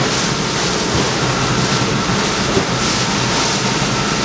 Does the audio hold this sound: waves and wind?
yes